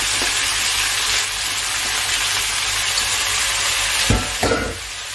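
Tender pumpkin greens hit a hot pan and fry with a steady, broad sizzle and hiss, a couple of brief stirring clatters near the end, no voices.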